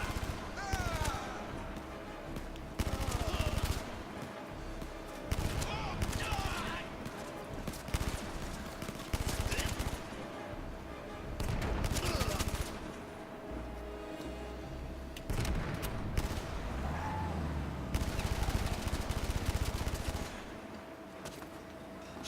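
Gunfire in the PSVR shooter Blood and Truth, bursts of shots and clattering action in uneven waves, mixed with music and effects, with someone talking over much of it.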